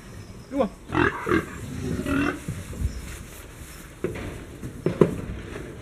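Pigs being loaded onto a livestock trailer up a ramp: scattered grunts and squeals with shuffling, thumping movement, moderately close, in short bursts with quieter gaps.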